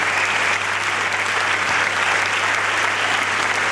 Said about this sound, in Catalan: Un fort aplaudiment també per aquesta donació.